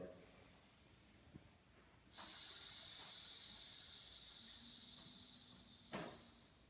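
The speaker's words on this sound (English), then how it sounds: "One thing I've tried is making a hissing sound to make sure you activate these muscles." A steady, forceful hiss of exhaled breath holds for about four seconds, close and loud, then ends in a short puff.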